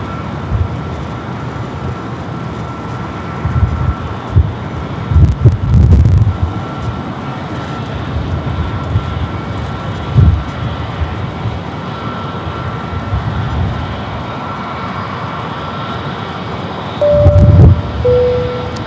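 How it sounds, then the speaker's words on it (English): A brand-new Delta Airbus A321neo bound for Salt Lake City takes off at San Diego airport, a steady broadband jet-engine roar heard from a distance. It holds at a constant loudness throughout, with a few nearby bumps and knocks. "Next takeoff is Delta Flight 1296, heading to Salt Lake City, a brand new A321neo."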